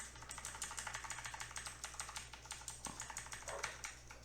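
Fast typing on a computer keyboard while working in Word, a steady run of close, crisp key clicks in quick irregular bursts over a low electrical hum.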